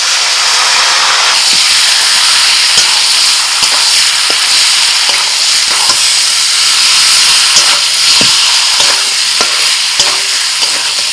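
Spice-marinated mutton hits hot mustard oil, set off by whole spices, and fries in a loud, continuous sizzle and hiss, with scattered crackles and stirring scrapes throughout.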